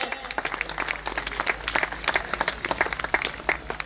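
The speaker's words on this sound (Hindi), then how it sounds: "जाट समाज कोठारा के साथी तालियां बजा करके स्वागत करें" Audience at a Sir Chhotu Ram birth anniversary gathering in Kothara claps to welcome members of the Jat community, a brisk patter of many hands with sharper nearby claps over a low steady hum.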